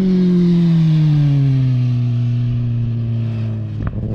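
A Kawasaki Ninja ZX10R track motorcycle's engine roars loud and close, its pitch sinking steadily as the revs drop, then a brief knock near the end.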